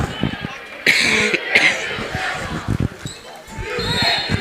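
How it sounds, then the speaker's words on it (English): A commentator with a head cold coughs right into the microphone during a high school girls' basketball broadcast, giving two sharp, loud coughs amid talk and background gym noise. "I'll try not to cough right into the mic like that, but that one got away from me"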